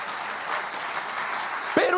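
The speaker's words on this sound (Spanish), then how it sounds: "Denle un aplauso al rey, hombre" Steady crowd applause at a church service, a dense wash of many hands clapping throughout, with a brief voice cutting in near the end.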